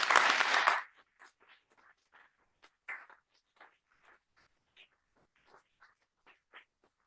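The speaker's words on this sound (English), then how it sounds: "You may applaud." A brief burst of audience applause for award winners at a Board of Education meeting cuts off after about a second. Soft, scattered taps and small knocks follow in an otherwise quiet room.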